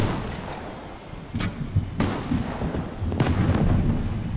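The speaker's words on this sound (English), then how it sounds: "Okay, stop shooting after that one." Gunfire in a video game sounds as a few sharp, separate shots and booms spread across several seconds over a steady background rumble, with no talking.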